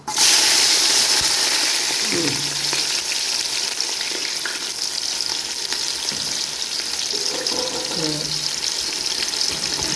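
Onion, garlic and chili frying in hot oil make a loud, steady sizzle that jumps up sharply at the start as they go in and then settles into a continuous hiss. Faint stirring sounds come through now and then, with no talk.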